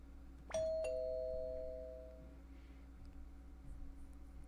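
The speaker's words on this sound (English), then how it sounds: "Why is she ringing the doorbell?" A doorbell rings in the video game AKB1/149: Renai Sousenkyo: two bright chime strikes in quick succession, each ringing out and fading over a couple of seconds against a quiet, steady background hum.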